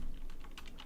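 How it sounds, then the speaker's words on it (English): Quick, light keystrokes tap on a computer keyboard, a short burst of close, quiet clicks with no talking. "You're typing in Discord."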